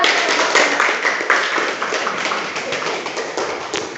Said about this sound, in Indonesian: Iya, benar. Tepuk tangan.